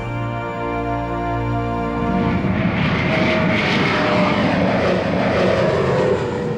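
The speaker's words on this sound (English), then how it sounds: "propel this Gulfstream 5 higher, faster, and farther than any other executive jet" A Gulfstream 5 executive jet with BMW Rolls-Royce BR710 engines, a loud rising engine roar that swells from a tonal whine into a broad rushing thrust, heard alone and close.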